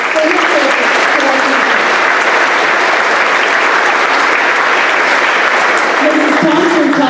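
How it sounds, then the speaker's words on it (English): An audience at a high school Veterans Day assembly applauds in a gym, dense sustained clapping that stays loud and even throughout, with a faint voice under it. "a round of applause for his service"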